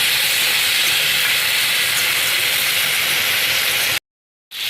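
Chicken curry stir-fried with bay leaves in a pan, a loud steady sizzling hiss close up, cut by a brief silence near the end before the sizzle resumes.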